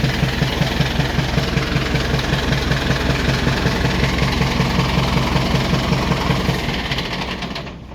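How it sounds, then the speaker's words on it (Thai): A Ford farm tractor modified into a sugarcane grab loader runs close by, its engine chugging in a fast, even, knocking rhythm that holds steady before easing slightly at the end. "คันรถไถคันนี้นะ"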